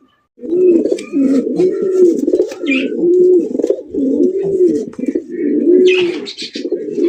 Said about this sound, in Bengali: আগুন চোখের রেসার কবুতর পাইতেছেন।